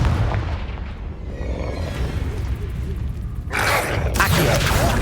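Confringo blasting spell in Hogwarts Legacy, a dull rumbling boom, then a sharp loud burst of fiery blast noise near the end, with game sounds throughout.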